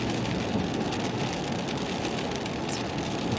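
Steady heavy rain shower pours down over a farm field in Wisconsin during a storm chase, a dense continuous hiss with no talking.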